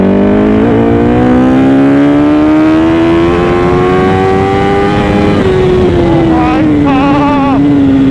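An old-model Yamaha R1 motorcycle accelerates hard in first gear: a loud, close engine note climbs steadily for about five seconds, then settles and drops slightly near the end.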